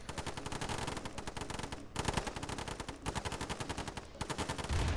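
Dense, rapid automatic gunfire from minigunner infantry in the Command & Conquer real-time strategy game crackles in continuous bursts with brief gaps. The fire is loud and rattling, with no speech.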